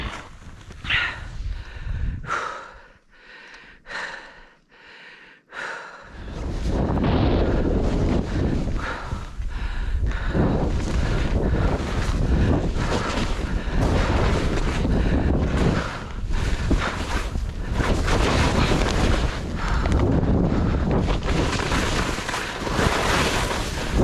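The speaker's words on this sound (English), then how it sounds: "I could really feel the wind" Heavy wind buffets the microphone outdoors, a dense roaring rumble that starts after a few quieter seconds with intermittent gusty bursts, then stays loud and continuous for the rest of the clip; no voices.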